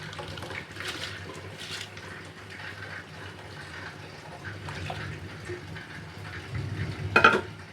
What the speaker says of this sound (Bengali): এবার আমি দিয়ে দেবো এই চালটা।